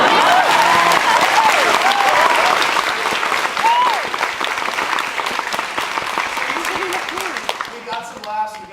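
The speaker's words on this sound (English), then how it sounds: "we got some glorious applause from that" Convention audience at a lecture breaking into loud, sustained applause mixed with cheers and a few whoops, dense and continuous before tapering at the end.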